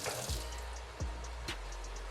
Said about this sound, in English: So I'll just quickly wash my hands.